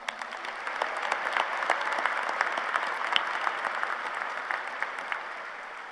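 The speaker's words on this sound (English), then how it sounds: "Let's give them all a round of applause." Audience applause at a University of Idaho spring commencement ceremony, a dense sustained clapping from a large crowd that swells and holds steady, with no speech.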